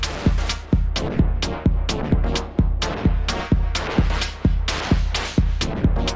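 A bright, metallic synthesizer tone from Arturia Pigments 3.5 pulses in a steady repeating rhythm, each note struck sharply then decaying, with a clangy, buzzy FM character from a changed wavetable.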